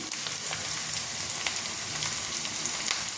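Curry leaves crackle in hot oil during egg fried rice cooking, a steady close sizzle with fine popping that runs evenly throughout, with no voices.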